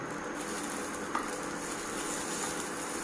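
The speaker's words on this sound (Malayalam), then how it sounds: "അതിനകത്തോട്ട് കുറച്ച് ബട്ടർ ഇട്ട് കൊടുക്കാം" Butter melting in a frying pan used for chicken sizzles steadily and softly at close range, with one brief sharper crackle, and no voices.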